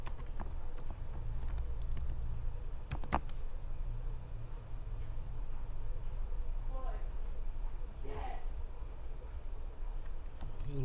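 Typing on a computer keyboard comes in scattered bursts of light clicks and taps through a long stretch, close and fairly quiet, as someone talks over it.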